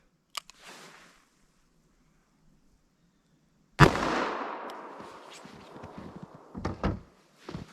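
A .357 Magnum Winchester Silvertip round fired into ballistic gel, a sharp sudden report with a decaying echo tail, preceded by faint clicks and followed by a few handling knocks.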